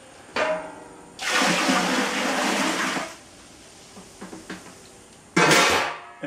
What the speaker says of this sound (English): I will use hot tap water for this.